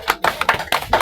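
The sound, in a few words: congregation clapping for the children in church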